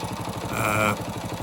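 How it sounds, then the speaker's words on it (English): A Honda XL185 motorcycle engine in poor condition idles on a test run with a steady, rapid low putter and a slight swell in revs midway, close and loud. "this is the XL185 motor that we picked up a few months ago, just test running it"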